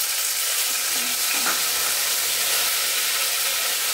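A medium-sized seeded tomato drops into a pan of cumin fried in oil and sizzles in a steady, bright hiss. It is close and continuous, with faint stirring scrapes.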